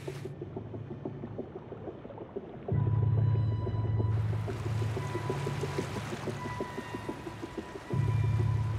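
An orca off Shetland, hunting seals, vocalizes underwater in repeated tonal calls and pulsed clicks, moderately loud against a low watery rumble, with no talk.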